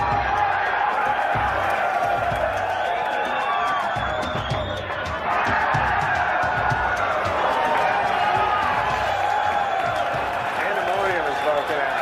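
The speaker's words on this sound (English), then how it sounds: "When the crowd is chanting pants" A rowdy television studio audience chants and cheers in a dense, loud, continuous roar, with rhythmic shouting and clapping throughout.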